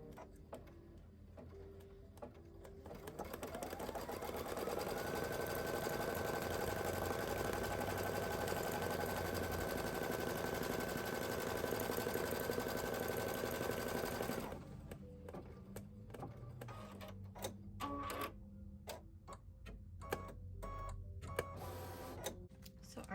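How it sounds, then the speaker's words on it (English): A sewing machine, likely an embroidery machine, whirs steadily and loudly for about ten seconds as it stitches crosshairs in red thread on a tea towel, with its pitch rising at the start, then clicks and quieter mechanical sounds as it stops. "that is the color I'm going to use to stitch out my crosshairs"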